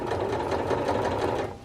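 A sewing machine runs a continuous, close, even whir while stitching a curved seam onto the interfaced side of a Butterick 6956 garment.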